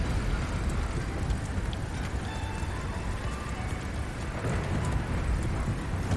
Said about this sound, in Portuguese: Mano, olha a chuva que tá caindo agora, velho.